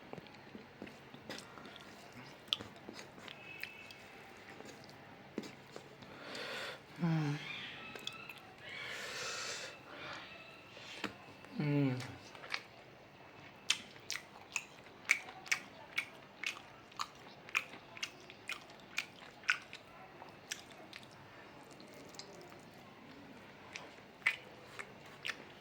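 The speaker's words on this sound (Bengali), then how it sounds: "দেশি বিরিয়ানি আমি কিন্তু অর্ধেকটা মোটামুটিভাবে খেয়ে ফেলছি" Someone chews and bites through a plate of biryani with mutton and potato up close, with wet smacking and crunchy bites repeating in uneven bursts and occasional breaths between mouthfuls.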